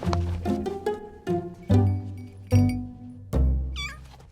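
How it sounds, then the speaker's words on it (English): Four-week-old kittens meow repeatedly in a run of short, close, fairly loud cries, overlapping at times and ending with a higher-pitched squeak. "Our kittens are now 4 weeks old and finding their feet."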